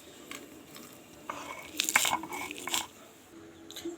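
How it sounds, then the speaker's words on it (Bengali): Spice paste for a jujube pickle frying and being stirred in a pan, with soft sizzling and scraping strokes that grow louder in the middle before settling down. "মশলাটাকে ভালো করে ভেজে নিয়েছি"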